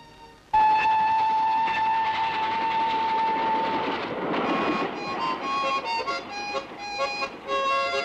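A train's whistle sounds in a long sustained blast, then the train rolls past loudly with rumbling and clattering wheels and further whistle tones, in an older film scene.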